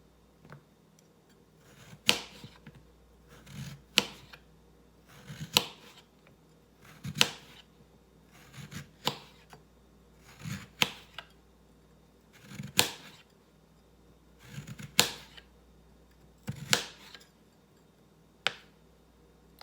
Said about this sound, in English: the little slices that I'm going to cut for our fried potatoes